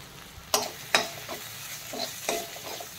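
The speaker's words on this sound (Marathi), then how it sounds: "हा मसाला बेताचाच टाकायचा आणि त्यानंतर परत एकदा आपल्याला परतून घ्यायचा आहे" Masala for drumstick amti being sautéed in a pan, with a spoon stirring in several distinct scrapes and clinks over a soft, close sizzle.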